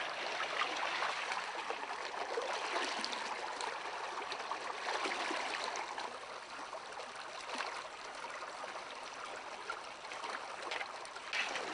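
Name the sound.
panning a mineral sample for gold in stream water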